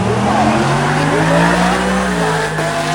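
A 1970 Camaro racing down a drag strip, its engine roaring loud and close with a steady, strained drone and some tire noise, shifting pitch slightly near the end.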